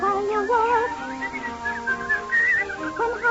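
A melodic tune is whistled in a Lux Radio Theater Snow White and the Seven Dwarfs broadcast, continuous and clear with bright wavering notes close to the microphone, no talking over it.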